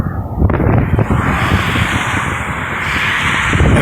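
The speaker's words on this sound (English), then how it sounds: "It's a bit windy today," Strong wind buffets the microphone at a lake causeway between mainland Vermont and Grand Isle on Lake Champlain, a loud continuous low rumble that roars steadily throughout with no talk.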